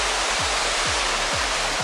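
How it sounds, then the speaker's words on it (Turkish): Steady, full roar of a waterfall in Thailand heard from its highest point, water pouring down in a dense broadband rush that stays constant and loud throughout, with no voices. "Buradan su akıyor aşağı doğru gidiyor."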